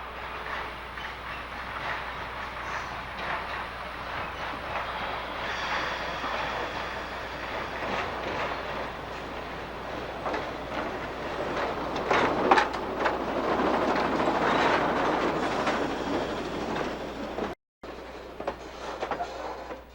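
A freight train with a caboose rolls steadily along the rails in Texas, a loud continuous rumble with rhythmic wheel clatter that swells near the end before cutting out abruptly.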